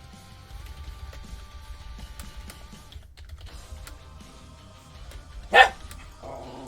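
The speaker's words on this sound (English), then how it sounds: "the dog's just decided to bark at its shadow" A dog barks once, sharply and loudly, as it reacts to its own shadow, cutting through steady computer-keyboard typing and low room hum.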